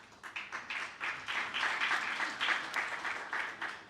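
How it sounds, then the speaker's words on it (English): A forum audience applauds as panelists walk up to the stage, a soft, fairly distant patter of many hands clapping in an uneven rhythm that holds steady with no talk over it. "let's give them a round of applause as they make their way to the stage"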